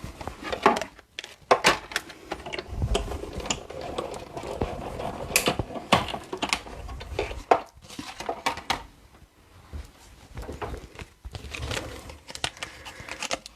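A Stampin' Up die-cutting machine cranks two layers of paper through, giving close, irregular clattering, crinkling and mechanical clicks in bursts over about thirteen seconds, with no speech.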